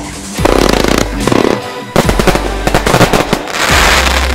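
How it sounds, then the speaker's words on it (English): A Viva Mexico 135-shot XL aerial finale fireworks cake fires loud, rapid volleys of bursting shots with thumping launches, one short pause between barrages, then continues crackling and booming close by. "135 shot XL aerial finale set."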